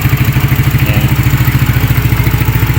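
A Euro Motors Marvel 130 F.I motorcycle engine idling nearby, a steady rapid chugging pulse at even rhythm, loud and alone without voices.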